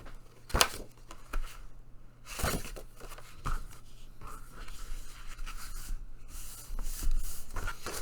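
Paper rustles and scrapes as the flap of a paper lunch bag is folded and creased, with soft sliding rubs and a few sharper crinkly bursts, close and fairly quiet.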